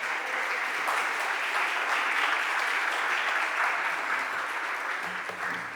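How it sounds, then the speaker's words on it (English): A Philadelphia City Council stated meeting fills with a sustained round of applause, dense steady clapping from many people in the chamber lasting several seconds before slowly thinning. "Let's give Philadelphia Finance a round of applause"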